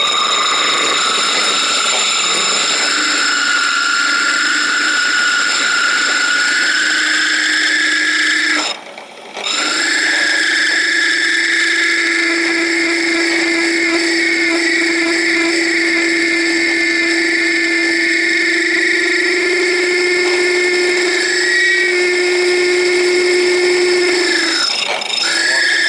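A drill grinding slowly through glass with water makes a continuous high-pitched whining grind, loud and steady for most of the clip, with one brief pause midway.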